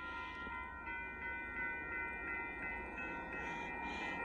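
A southbound Union Pacific mixed freight train rumbles steadily at a distance in Buda, Texas, with rhythmic clacking of wheels over rail joints and a faint high whine.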